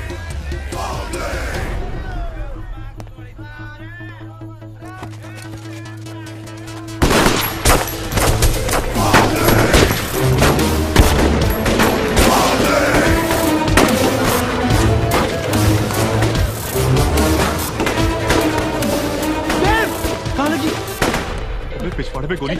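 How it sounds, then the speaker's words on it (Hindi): Gunfire in a Hindi movie scene: after a quieter stretch with a voice, dense bursts of shots and blasts erupt and continue loudly, mixed with shouting and music. "तो देर किस बात की है फिर? चलाओ गोली,"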